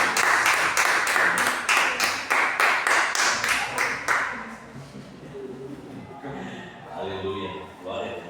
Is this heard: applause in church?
yes